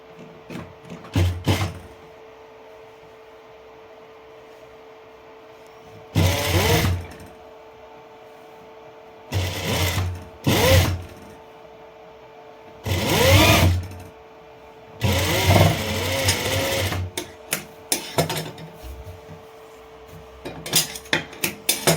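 An electric sewing machine stitches the side pocket of a pair of trousers. It whirs in several loud bursts of rapid stitching, separated by quiet pauses and small clicks of handling.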